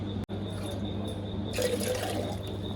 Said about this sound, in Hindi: सो यहाँ हम घड़े से पानी निकालेंगे।